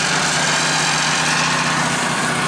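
A Woodmizer LT15 sawmill runs outdoors in below-freezing cold, and its engine drones loud and steady right up close. No voices are heard.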